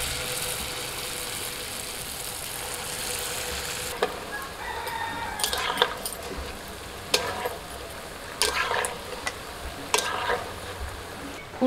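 Palm fruit pitha frying in oil, a continuous close sizzle and bubbling, punctuated by scattered sharp clicks and spatter bursts, with a rooster crowing faintly in the background.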